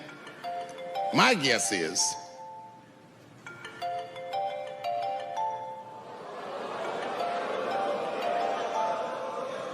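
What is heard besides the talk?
mobile phone ringing in the audience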